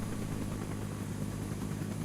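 Huey helicopter lifting off in Rising Storm 2 Vietnam, a low steady rotor thump and engine drone, fairly faint and continuous, with no talk.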